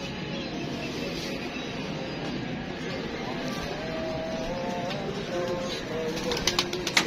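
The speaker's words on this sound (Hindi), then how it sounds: "लुंडा भी अखीर कबूतर है साजी" Pigeons coo softly in a low, throaty murmur against steady outdoor background noise, moderately distant, with a few faint clicks toward the end and no clear talking.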